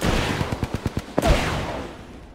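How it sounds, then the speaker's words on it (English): Rapid automatic gunfire in Apex Legends during an early squad battle: a quick burst of about eight evenly spaced close shots, then a heavier final shot trailing into fading reverberant rumble. "Get shot at."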